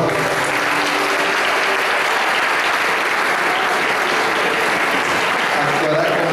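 A concert audience applauds for a singer and guitarist, a loud, sustained wash of clapping that holds steady from start to finish.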